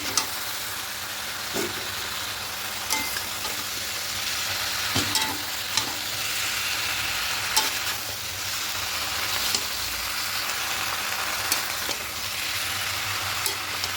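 Chopped Malabar spinach frying with lentils and shrimp in a pan sizzles in a dense steady hiss, with periodic light clicks and scrapes of stirring throughout.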